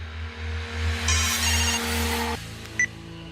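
A telephone rings for a call to a police commissioner, a steady electronic ringtone with a pulsing low hum that cuts off abruptly, followed by a short beep.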